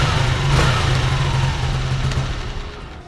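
A Honda Titan KS 125 motorcycle engine settles into a steady idle after a throttle blip, rumbling low and continuous close by.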